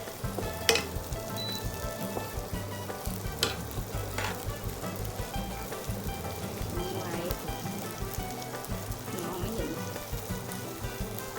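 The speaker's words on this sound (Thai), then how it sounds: "ใส่เข้าไปคั่วอีกทีหนึ่งในกระทะ เพิ่มความหอม แล้วก็คั่วถั่วไปด้วยค่ะ" Continuous crackling sizzle of ground peanuts being dry-stir-fried in a pan for pad thai, with occasional scraping taps of a utensil against the metal.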